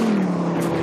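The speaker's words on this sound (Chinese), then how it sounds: "引擎轰隆隆，冲出起跑线，直线狂飙" A yellow race car roars hard off the start line in a quarter-mile drag acceleration run, a loud, close engine note with a strong rising drone over a brief burst.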